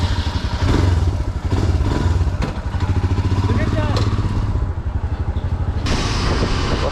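A Royal Enfield Himalayan motorcycle runs nearby just after a service, its steady low thumping engine pulsing continuously, with a brief louder clatter midway and some background voices.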